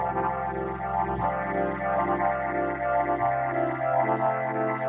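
A Hydrasynth synthesizer patch with amplitude modulation sustains a bright, buzzy tone with a wobbling, pulsing texture, with the pitch shifting in steps, playing alone at moderate volume.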